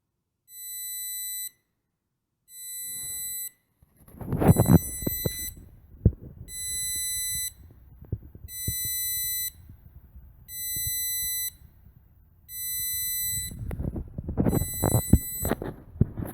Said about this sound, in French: le BMS s'est mis en alarme